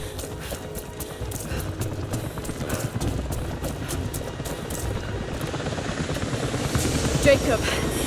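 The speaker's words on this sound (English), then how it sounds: "helicopters are headed your way" A helicopter in the video game Rise of the Tomb Raider, its rotor chop thudding in a rapid steady pulse that grows louder as it approaches, with game sounds and voices mixed in.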